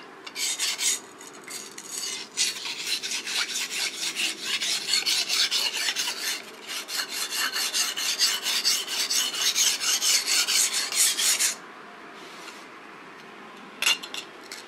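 A sashimi knife blade is drawn repeatedly across a whetstone, giving close, steady rasping strokes in a continuous rhythm with brief pauses near the end.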